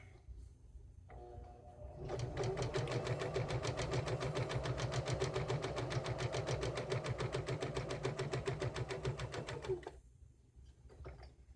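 A sewing machine stitching grocery bag holders runs in a steady, rapid rhythmic chatter for about eight seconds, close and clear, then stops, with quiet room sound before and after.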